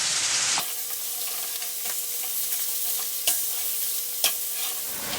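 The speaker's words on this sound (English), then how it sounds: "Remember to constantly press down your salmon to ensure that the skin is staying as crisp as possible." Salmon fries skin-side in a hot pan after being flipped, a constant close sizzle broken by a few sharp clicks and taps, with no one talking.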